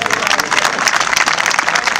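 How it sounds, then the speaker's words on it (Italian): Audience applause at a public year-end address by Luca Zaia in Orsago: dense, steady clapping from a crowd, fairly loud and continuous for the whole stretch. "un applauso a tutti quelli che lavorano"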